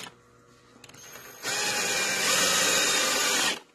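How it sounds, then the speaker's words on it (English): A power drill whirs briefly, then drives a screw into a wooden cider and fruit press in one loud, steady burst of about two seconds before cutting off. "Let me get this last drill in"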